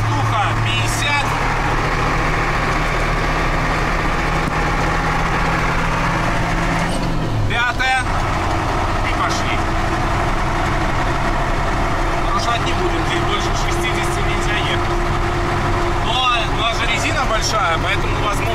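A Ural 4320 truck drives through snow at about 50 km/h while towing a DAF lorry, its engine a loud, steady low drone heard from inside the cab with occasional rattles and knocks.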